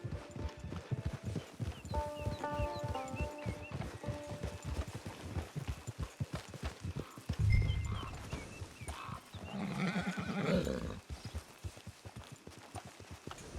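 Horse hooves clip-clop at a steady gait across a Red Dead Online range trail, with a brief whinny partway through and rustling movement near the end.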